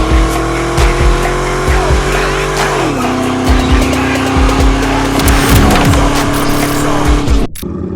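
A 2002 Pontiac Firehawk with an LS1 V8 and automatic transmission drives hard and loud, engine note rising then dropping at a shift around three seconds, with road and tire noise throughout and a brief cut near the end.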